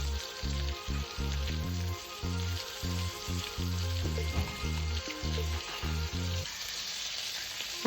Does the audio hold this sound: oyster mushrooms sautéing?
yes